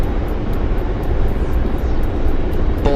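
A Hind attack helicopter in a video game roars past close and loud, a dense engine and rotor drone with regular rhythmic rotor chops that holds steady throughout.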